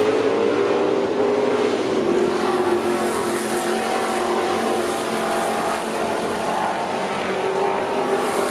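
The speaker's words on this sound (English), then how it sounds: "Tim Gray in that white Mustang" TA2 race cars, including a white Mustang, roaring around the Road America circuit, a loud continuous engine howl that holds steady and blends several cars at full speed.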